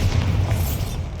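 A Bombarda spell explosion in Hogwarts Legacy lands as a loud, deep boom that rumbles with a heavy low end for about a second.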